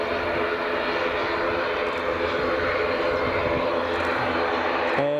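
A plane on runway 24 at Edinburgh Airport gives a steady, loud engine roar that holds constant throughout, with a broad rumble and no talk over it.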